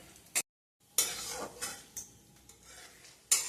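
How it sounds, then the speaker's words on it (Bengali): Peanuts frying in oil and ghee in a pan over a medium-low flame, with soft sizzling and a few sharp scraping stirs and clinks of a utensil against the pan, close and fairly quiet. "মিডিয়াম টু লো ফ্লেমে আপনারা চীনাবাদামটা ভেজে নেবেন।"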